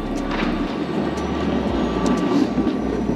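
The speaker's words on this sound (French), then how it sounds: "il y a un tramway qui passe" A tram passing by on a street in Budapest, a steady loud rumble of wheels on rails with faint squeals and clicks, continuous throughout.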